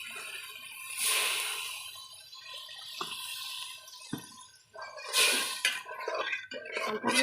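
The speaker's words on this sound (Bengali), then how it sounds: "এবার এটাতে একটু জল দিয়ে দিই।" A little water poured into rice being fried in a pan for masoor dal with bitter gourd, giving bursts of bubbling hiss and splashing with brief gaps between pours.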